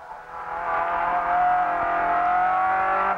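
A 1971 Ford Escort RS 1600 racing engine heard from inside the car at Jarama, a loud sustained drone that holds steady and climbs slightly in pitch, with a faint tire squeal under it.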